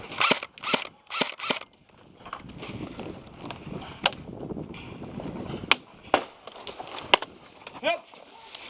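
Pistol shots in a pistol pit game: several sharp, close pops in a quick cluster, then scattered single cracks, with voices talking between them.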